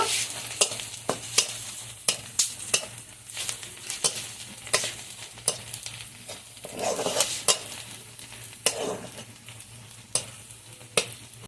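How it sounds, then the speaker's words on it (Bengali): Chopped onion and garlic frying in oil in a pan, stirred often: a continuous sizzle broken by regular sharp clicks and scrapes of the spoon against the pan, close and fairly loud, no talking. "এখন পেঁয়াজ রসুনটা ভেজে নেব"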